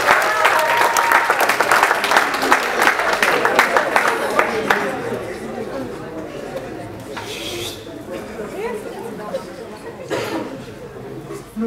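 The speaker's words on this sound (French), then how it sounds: "On les applaudit bien fort." An audience at an improvisational theatre match claps loudly in a full, rapid burst that fades after a few seconds into lighter clapping, murmurs and a few cheers.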